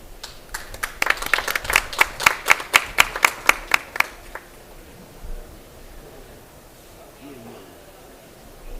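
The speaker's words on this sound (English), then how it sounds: "Please welcome him with a big round of applause." Audience at a carbon-neutral island conference welcomes a speaker with a short burst of fairly close, distinct claps lasting a few seconds, then fading into quiet room tone.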